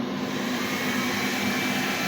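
A blower running as the load on a 10kW rackmount off-grid hybrid inverter gives a steady, loud whooshing roar with a constant hum, uninterrupted and close.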